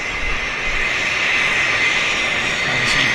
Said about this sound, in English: he's going to sit here beside the Phenom, run engines, burn gas, make noise